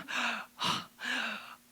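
A man imitates a panting deer with his voice: three loud, breathy gasps in even rhythm, close to the listener, with short pauses between them.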